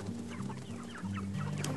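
Free-range chickens clucking steadily up close, several birds overlapping in a busy farmyard chorus with scattered higher calls.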